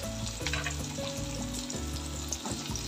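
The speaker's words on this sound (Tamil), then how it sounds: "இந்த வெங்காயம் வதங்கும் போது கூடவே பார்த்திங்கன்னா நான் பாவக்காயும் போட்டுடுறேன்." Onions and bitter gourd sauté in a pan, giving a close, continuous sizzle broken by several short scraping stirs of a spoon against the pan.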